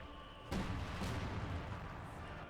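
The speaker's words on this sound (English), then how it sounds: "here artillery is going off" Artillery guns firing in Company of Heroes 2 during a 4v4 battle on the Angermuende map: a sudden loud boom followed by a sustained rumbling roar of continuous barrage, with no talk.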